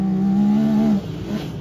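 A Yamaha YXZ side-by-side races along a dirt track, its engine droning loud and steady at a high rev before dropping off abruptly as it passes.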